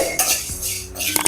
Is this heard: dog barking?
no